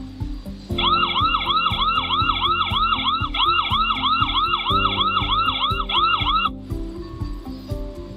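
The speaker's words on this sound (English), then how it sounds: "go to your app and just press siren" A loud electronic siren from an ANRAN Q3 Max solar battery security camera wails in a rapid rising-and-falling pattern for several seconds, close and piercing, then cuts off.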